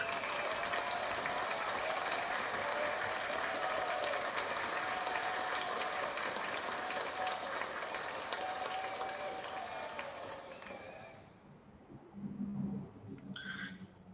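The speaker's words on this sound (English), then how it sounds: "ant to give Fox 35 Orlando's Amanda McKenzie a huge round of applause for that" Loud, sustained applause from a large crowd fills most of the clip, then fades out toward the end.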